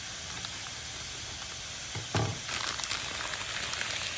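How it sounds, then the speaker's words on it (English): Noodles dropped into a hot wok with vegetables for a salmon noodle stir fry, giving a soft steady sizzle with a brief louder burst of frying as they land. "Now I'm going to add these straight to the wok noodles because they're easier."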